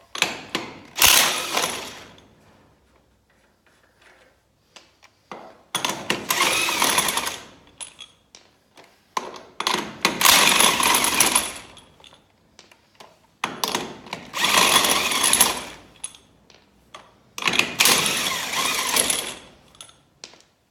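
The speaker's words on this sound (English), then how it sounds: "you'll just turn them to the left, counterclockwise, to get these nuts off" A wrench, apparently powered, spinning the lug nuts off a car wheel during a tire change, five loud mechanical whirring bursts of one to two seconds each separated by quiet pauses, nearby and without talk.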